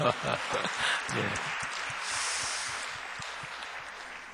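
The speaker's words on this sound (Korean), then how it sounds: "우리 이행숙 권사님과 4교구를 위해서 박수 한번" A church congregation claps together for a deacon and her parish district during a midweek Reformation lecture, a broad steady patter that starts fairly loud, then holds and slowly thins, with brief voices mixed in at the start.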